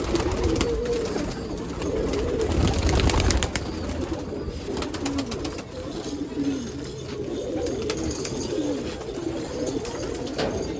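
Pigeons at a pigeon festival in Nashik coo in a steady, overlapping chorus, fairly close, with a brief louder burst of fluttering and calls early on.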